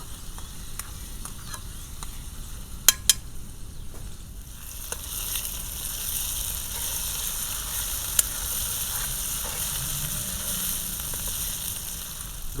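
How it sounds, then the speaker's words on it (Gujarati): Onions frying in oil on a clay village stove while being stirred now and then: a steady, close hiss of sizzling with a few sharp clicks of the spoon against the pot early on. "ડુંગળીને આપણે થોડી વારે હલાવતા રહીશું. આવી રીતે મિક્સ કરતું રહેવાનું છે."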